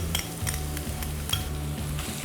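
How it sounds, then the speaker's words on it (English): Curry sautés with ginger, shallots and garlic in a hot pan, giving a loud, continuous sizzle with stirring scrapes, over a steady low musical backing. "And we want to saute it to make it extra fragrant and just to release those aromas."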